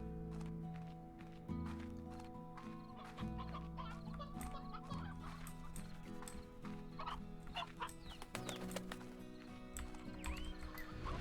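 Chickens cluck repeatedly in the video game Slime Rancher, layered over steady game music with short bursts of clucking throughout, and some hoof-like clip-clop sounds mixed in.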